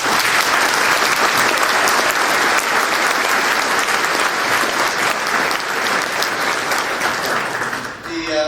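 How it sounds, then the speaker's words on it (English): Sustained, dense audience applause fills a banquet hall at a national convention awards dinner in Iowa. The clapping stays loud and steady throughout, fading slightly near the end. "they deserve our applause"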